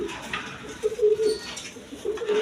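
Domestic pigeons offered for sale, a desi gola female among them, coo in low repeated calls. The calls come in two close bursts over steady background noise with no talk.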